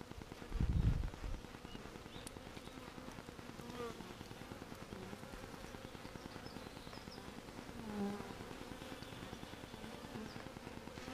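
A honey bee swarm on a fence post hums in a faint, steady buzz close by, with soft handling noises and a brief louder bump early on.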